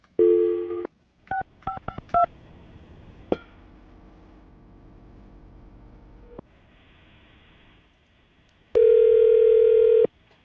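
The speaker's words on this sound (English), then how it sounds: "I'm going to dial the phone number right now" Phone keypad tones beep in a quick sequence, followed by a quiet line and then a long steady tone.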